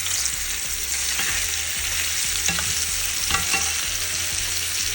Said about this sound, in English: As you can see, I'm turning them on all sides to get all of the sides brown.